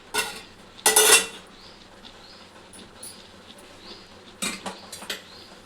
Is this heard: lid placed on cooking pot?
yes